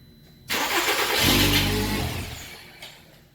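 A Volkswagen Beetle with an immobilizer fault cranks and catches, its engine running loudly for about two seconds before fading out as it dies, with a brief bump near the end.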